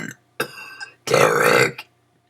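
Close, loud belching comes in three bursts: two short croaks followed by a longer, deeper burp that stops abruptly into quiet.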